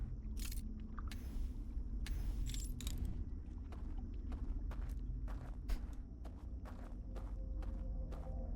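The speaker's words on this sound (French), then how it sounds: "j'ai entendu des bruits de pas tout à l'heure" Footsteps in the video game Outer Wilds, a quick run of crisp taps with jangly, metallic clinks, some steps spaced and others tight together over a low steady hum.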